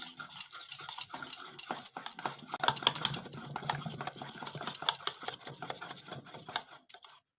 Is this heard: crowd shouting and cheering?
no